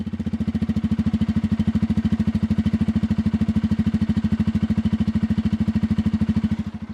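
A Bajaj Pulsar 250 motorcycle idles in neutral, its single engine thumping in a steady, rapid, even rhythm close by and loud, dipping slightly at the very end.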